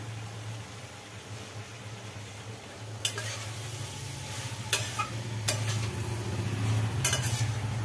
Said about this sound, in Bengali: গুড় দিয়ে একটু নাড়াচাড়া করলো, গুড়টা মিশুক